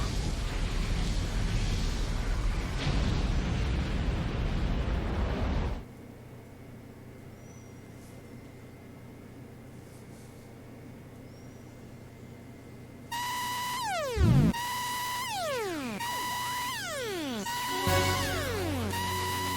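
Explosion in the video game Xenogears, a loud, dense burst lasting several seconds, followed by quieter game ambience and then bright chiming, sweeping effects.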